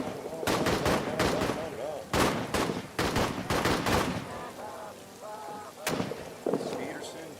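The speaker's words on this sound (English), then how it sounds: "Keep shooting. Keep firing." Rapid bursts of gunfire in an RPG video game ring out loud and close, in several volleys with brief gaps, while voices shout commands over the shooting.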